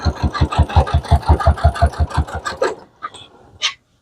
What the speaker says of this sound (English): now I'm just going to sew all the way to the end of this strip